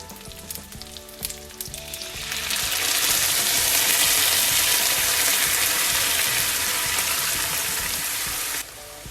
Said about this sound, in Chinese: 我们将豆腐煎到2面金黄以后呢，就将刚刚做好的酱料汁淋到豆腐上面